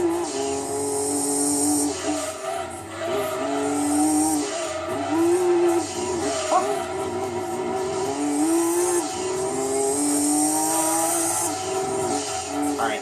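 Race car engine from the Gran Turismo 2 video game during an all-night endurance race on the SS Route 5 course: a steady, loud, high-revving drone that rises and falls through gear changes, with faint tire squeal and no talking.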